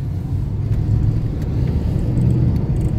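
A 1990 Cadillac Fleetwood Brougham drives along with a low, steady engine rumble heard from inside, the tone shifting slightly as it moves up through its gears.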